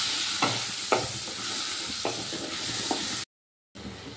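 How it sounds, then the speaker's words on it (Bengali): Onion, garlic and tomato paste frying in a pan with a steady broadband sizzle, broken by several scraping stirs of a spoon, then a brief cut to silence before the sizzle resumes. "এবার একটু ভালো করে কষিয়ে নেব।"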